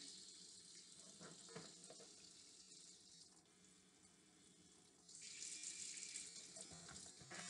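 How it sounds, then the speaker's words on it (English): Water runs from a sink faucet in a faint steady stream, growing noticeably stronger partway through as the flow is turned up. "So I'm going to turn my water on a little bit."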